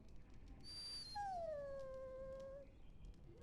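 A warhound in the video game Dragon Age: Origins lets out a single drawn-out whine that slides slowly downward for about a second and a half, clear over a low background hum.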